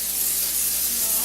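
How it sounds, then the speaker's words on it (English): Olive oil cooking spray being sprayed into a pan, a close, steady hiss lasting just over a second. "I'm going to use olive oil spray, okay, a nice amount."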